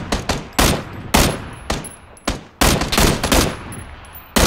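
Bursts of gunfire in the video game Battlegrounds, loud and close, with several short rapid volleys and single shots separated by brief pauses.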